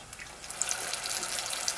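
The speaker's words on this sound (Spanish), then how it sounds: "Vamos a poner el chile y aquí lo vamos a poner en el aceite caliente." A chile relleno frying in hot oil gives a steady, close sizzle with fine crackling pops throughout, fairly loud and without talk.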